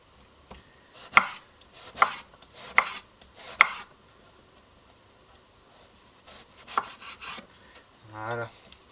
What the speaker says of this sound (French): toujours le gros couteau. Pour couper un peu plus facilement, on va faire des belles tranches